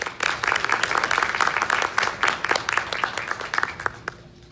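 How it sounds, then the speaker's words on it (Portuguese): A conference audience at a Rio Info 2022 retail-track session claps to welcome a speaker. The applause is a dense, steady patter of many hands that thins out and fades near the end. "queria que vocês recebessem com palmas Paulo Balesteiro."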